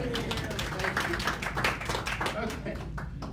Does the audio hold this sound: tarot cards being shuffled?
no